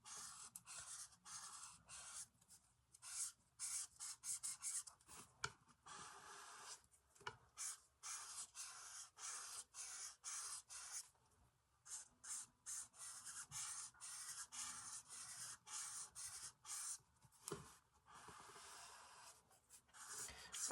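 A Copic alcohol marker rubs across paper in rapid, repeated colouring strokes. The scratchy sounds come close and quiet in irregular bursts with short pauses, and no one speaks.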